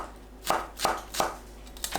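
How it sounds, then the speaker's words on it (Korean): A knife chops green onion on a board in four crisp, evenly spaced strokes, close and clear, with no talking. "그동안 파를 작게 썰어줍니다."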